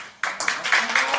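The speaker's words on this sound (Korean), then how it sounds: "오늘 굉장히 박수가 이렇게 잦네요" Studio audience at a live Korean debate program on the candlelight protests breaks into sudden applause after a quiet moment, a bright, dense burst of clapping that swells in waves over about a second.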